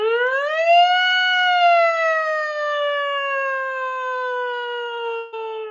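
A single voice glides smoothly upward then slowly down in a long, sustained siren-like sweep, imitating a siren, clear and close with no other sounds.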